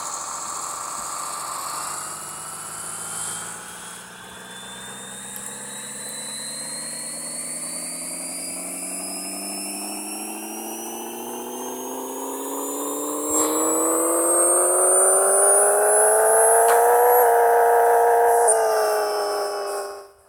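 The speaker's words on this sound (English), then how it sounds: "So I'll turn it up for you, and you get to hear the engine for yourself." A tuned Nissan 240SX engine in the Pixel Car Racer video game revs steadily upward on a dyno, pitch climbing smoothly over many seconds before peaking loudly and cutting off, with a high whine above.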